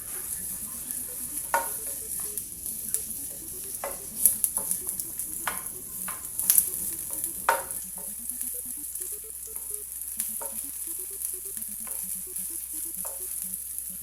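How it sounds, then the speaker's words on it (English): Onion sautéing in hot oil in a pan for a seafood chowder: a soft, steady sizzle with occasional utensil taps and stirring scrapes, close but fairly quiet, no talking. "We're gonna heat it with the oil in the pan and saute the onion for about 20 seconds"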